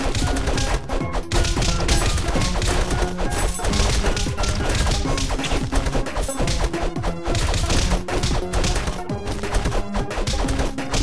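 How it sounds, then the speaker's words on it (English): Castle Crashers combat: a character bashes enemies with a lollipop, producing a dense, loud, relentless stream of smashing and thwacking hits over busy game sound. "I'm just smashing a lot of people with a lollipop."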